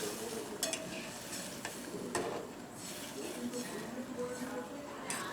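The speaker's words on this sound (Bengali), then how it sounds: "জল দিয়ে দেবো।" Water going into spice paste frying in oil for egg posto curry brings a steady close hiss and sizzle, with a spoon scraping and stirring through it and a few light taps.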